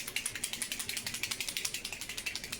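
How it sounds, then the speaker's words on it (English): A paint mop marker with a mixing ball inside being shaken, giving a fast, steady run of bright rattling clicks, close and fairly quiet, with no talking. "Shake up the new formula that we just added."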